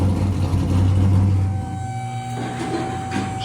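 A Chevrolet C10 drift truck with a fully forged 11:1 compression engine cranks and catches on a dyno at a race shop, a deep rumbling burst followed by a settling idle under a steady whine.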